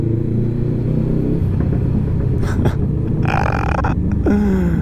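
A 2017 Honda CBR500R motorcycle engine revs up with a rough, rumbling roar that climbs in pitch near the end, loud and close, with a brief burst of higher-pitched engine noise around the middle.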